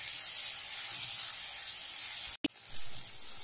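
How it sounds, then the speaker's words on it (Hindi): Onions frying in hot oil in a pan while a potato and yogurt curry is made, a steady close sizzle with a brief cutout in the middle, then the frying hiss continues alone. "प्याज को हम गोल्डन ब्राउन होने तक तेल में भूनेंगे।"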